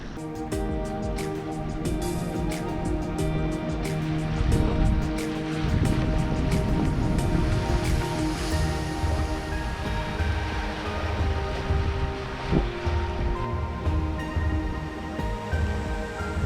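A sailing boat making about 5.5 knots through open sea, with steady broadband water rush and wash along the hull, wind noise over the microphone and low rumble throughout, continuous and fairly close.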